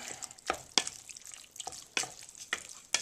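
A spoon stirs canned tomatoes with diced green chilies into rice, giving soft wet scraping with several sharper clacks against the pot at irregular intervals.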